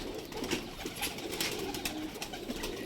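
Soft pigeon cooing rises and falls over a steady outdoor hiss, the birds fairly close but quiet, with no talking.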